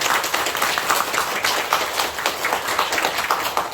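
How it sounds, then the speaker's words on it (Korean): An audience at a school talk concert applauds the student and adult panel, a loud, close, continuous clapping from many hands with slightly uneven rhythmic pulses. "감사의 박수 한번 부탁드리겠습니다"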